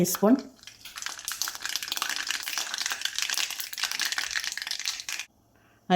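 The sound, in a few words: mustard seeds added to hot oil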